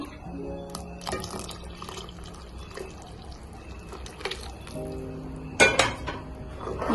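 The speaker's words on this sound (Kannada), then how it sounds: "ಸೊಪ್ಪು ಮತ್ತೆ ತೊಗರಿ ಬೇಳೆನ ಅದೇ ನೀರ್ನ ಹಾಕೊಂತ ಇದೀನಿ" Cooking water with boiled drumstick leaves and toor dal being poured into a village-style sambar, with liquid splashing and trickling alongside clinking pots and utensils, and a louder clatter near the end.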